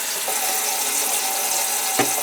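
Water running and trickling from a leaking kitchen sink drain pipe, a steady close wash of flow with a small drip or splash near the end.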